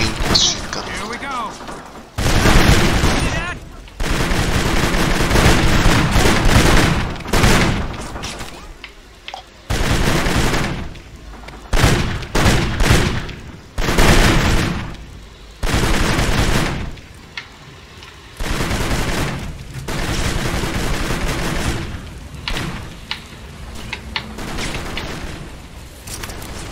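Sustained bursts of machine gun fire in the video game Kane & Lynch, heavy gunfire recurring in long volleys across the scene, mixed with other battle noise and players talking over it.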